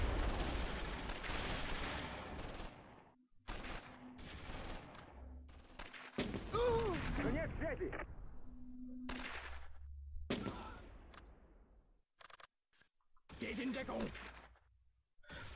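Tank gunfire from the WWII strategy game Close Combat 3: The Russian Front, heard as bursts of game shots and machine-gun fire through a cluttered battle mix, with a person talking over parts of it.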